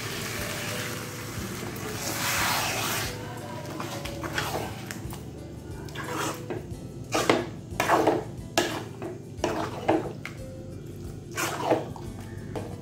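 A pot of potato kurma gets stirred, with the spoon clinking and scraping several times against the pot at an irregular rhythm over a low kitchen background. A hiss of cooking is more prominent early on.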